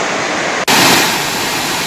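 Kempty Falls in Mussoorie roars in flood after heavy rain, a loud, dense, steady rush of fast-moving water that fills the clip with unbroken noise after a brief cut.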